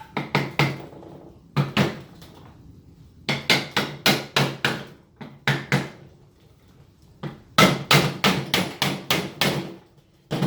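Sharp hammer taps in quick bursts of four to six strikes, separated by short pauses, seating a seal in a billet AWD transfer case, close and loud with a wooden knocking ring.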